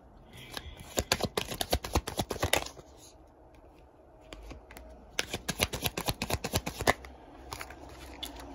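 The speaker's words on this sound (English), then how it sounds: "I'm going to pull 6 cards before I begin the channeling." Tarot cards being shuffled in two bursts of rapid papery riffling and flicking, close and crisp, with a short quiet gap between the bursts and no voices.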